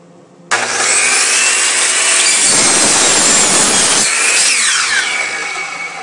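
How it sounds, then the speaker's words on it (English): A power saw cuts through wood for the front and back walls of a birdhouse, starting abruptly with a loud, steady, close-up whine and rasp that holds for several seconds and then begins to ease off. "So here we are cutting the walls of the front and back walls of the birdhouse."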